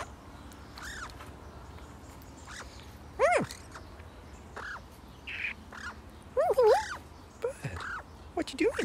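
Bird calls sound repeatedly over a noisy background, a string of sharp, rising squawks and chirps that come and go with loud bursts at about three and six and a half seconds.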